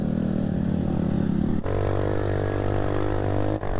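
A motorcycle taxi (ojek) climbs a mountain trail toward the Bambangan route, its engine droning steadily and loudly up close, with a worn chain and two brief dips in the note as the rider shifts.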